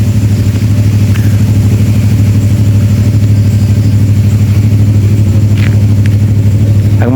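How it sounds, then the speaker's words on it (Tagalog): Motorcycles started by employees in a parking lot, a loud steady idling engine drone running throughout, close and continuous, with faint distant sounds above it. "So may mga ilang empleyado nagbuhay na ng mga motorsiklo"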